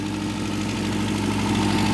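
A Toyota motorhome engine idles with a steady, deep exhaust rumble from a cracked or missing donut gasket where the exhaust manifold joins the downpipe, heard up close and continuous with no talk.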